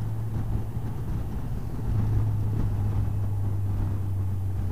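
A lorry passes on the road as heard from a motorcycle, with a steady loud engine drone and wind rumble that swells slightly midway, with no talk.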